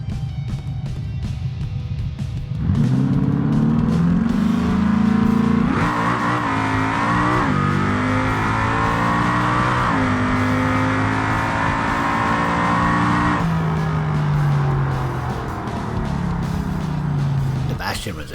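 A Bastion drag car in the BeamNG video game, running a twin-turbo 6.5 liter V8 on nitrous, roars loudly through a long run with climbing engine tones and gear changes. A narrator's voice runs over the engine noise.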